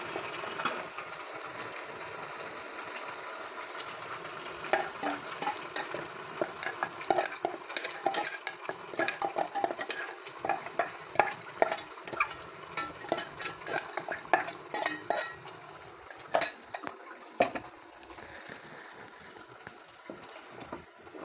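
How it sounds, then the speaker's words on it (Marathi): Ground masala paste fries in oil over browned onions for egg curry, giving a soft constant sizzle under busy, rapid scraping and clacking of a spoon against the pan. "मसाला आपण चांगला फ्राय करून घेऊया तेलात भाजून घेऊया चांगला"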